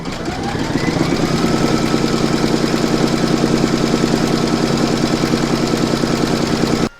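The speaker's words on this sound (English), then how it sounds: "Pop your hoop back into your machine and stitch round number 3" An embroidery machine stitches the quilting round on a notebook cover, a steady loud mechanical hum with rapid, evenly spaced needle beats running continuously, then stopping abruptly at the end.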